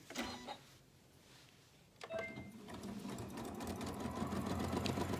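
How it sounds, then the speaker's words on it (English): A sewing machine runs a stitch along a fabric edge with a cloth guide attached, opening with a short burst and then, after a pause, settling into a steady, close whirring hum. "I'm going to sew this little edge as we go"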